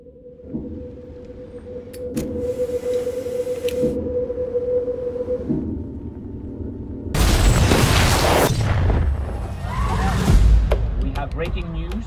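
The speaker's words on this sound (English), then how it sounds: "a large explosion has gone off in the center of the city" A large explosion in a city center from a film trailer, a sudden loud booming blast with rushing roar midway through, following droning music and ambient tones, with speech nearby.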